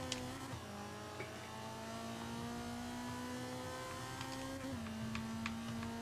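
A D Class Mazda MX-5 held at full throttle on the Mojave track in Forza 5, a steady, buzzing engine drone with small pitch dips at gear changes, running on continuously without talk.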